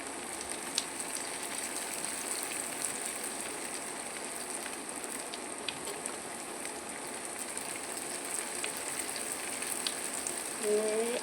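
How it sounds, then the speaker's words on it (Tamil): Store-bought ginger garlic paste sautés in a pan with softened tomatoes, making a faint, even hiss of frying that runs steadily with small scattered pops. "இப்போ இஞ்சி பச்சை வாசனை போகிறதுக்கு நல்லா வதக்குங்க"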